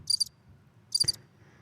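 Two short bursts of cricket chirping, each a quick cluster of high trills, arrive about a second apart against a quiet background.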